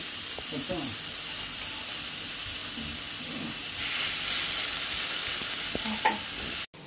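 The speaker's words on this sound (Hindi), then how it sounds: "और चिकन को इसके ऊपर रखूंगी ग्रिलर पे" Chicken sizzling on a greased griller, a steady close frying hiss with a few faint clinks and scrapes over it, no talk.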